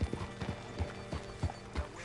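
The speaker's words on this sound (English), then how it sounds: "Get your horse up here." Horse hooves clip-clop at a steady walking rhythm in Red Dead Redemption 2, a regular run of close, moderately loud hoof falls with no talk over them.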